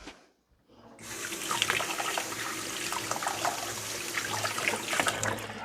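Kitchen tap turned on after a brief hush, water rushing steadily into a sink while something is rinsed during cupcake decorating; close, loud and continuous, with splashy fluctuations.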